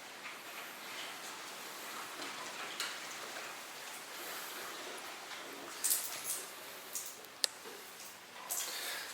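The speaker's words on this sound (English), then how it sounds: "You can hear that rain outside as well." Steady rain patters outside an abandoned mansion as a soft, continuous hiss. A few louder drips and taps come through close by, and no one speaks.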